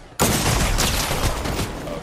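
Gunfire in the video game Fortnite, a sudden loud stream of rapid shots that starts abruptly and keeps going, with overlapping bangs and a faint voice in the background.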